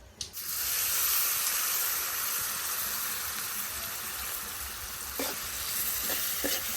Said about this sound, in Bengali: চিংড়ি মাছটাও খুব ভালোভাবে বেজে নেই